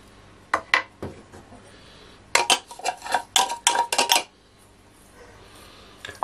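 A spoon stirs ground roasted chickpea flour (stragalia) in a bowl, giving light, scattered clinks and scrapes in two short bursts with quiet pauses between, close by and with no talking.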